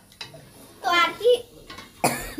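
A child coughs in a home kitchen while cooking goes on, short bursts mixed with a voice, near and fairly loud.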